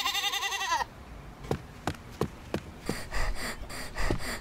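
A male goat bred for Qurbani sacrifice bleats in a loud, quavering cry, then gives a series of sharp, evenly spaced snorts and huffs after breaking loose from its rope.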